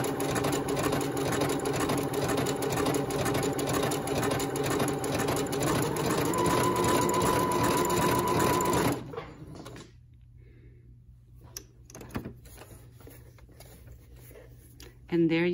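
Sewing machine fitted with an overlock foot stitching an overlock seam along a fabric edge, a steady rapid mechanical whir running loud for about nine seconds before stopping, followed by quieter handling noises.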